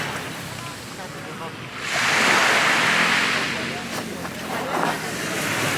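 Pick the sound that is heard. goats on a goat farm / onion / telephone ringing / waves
waves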